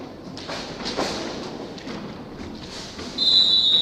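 A referee's whistle sounds during a women's Serie A roller hockey match between Newco Roller Matera and Viareggio. A single sharp, shrill blast comes near the end, rising over the muffled clatter of the arena.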